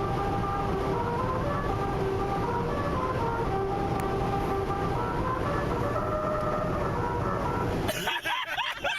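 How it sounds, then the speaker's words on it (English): A car crosses a musical road at 100 mph, and its tyres drone a loud, continuous series of pitched tones. The tones shift in pitch as the car rolls over the grooves, then break off into rumbling road noise near the end. "Musical road at 100 miles per hour."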